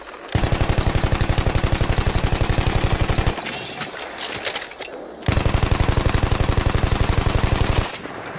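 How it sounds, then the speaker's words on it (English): Rapid, loud machine-gun bursts from a Battlefield 1 light machine gun, two long sustained volleys separated by a short pause filled with clattering belt-reload handling noises. "your soldier rolls the magazine out and then put a new one in"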